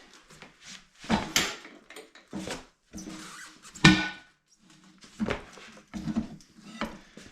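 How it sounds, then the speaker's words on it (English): A GoPro camera gets knocked over during work on a manual tire changer, heard as a string of close knocks, scrapes and clattering handling noises with short pauses between them, fairly loud and without speech. "I knocked my GoPro over."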